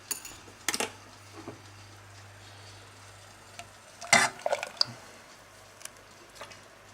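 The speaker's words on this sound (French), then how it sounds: "Et je remue jusqu'à ébullition et liaison." A spoon stirs a milk and egg cream mixture in a saucepan on the stove, producing soft intermittent scraping and clinks against the pan over a faint low hum, with a brief louder clatter midway.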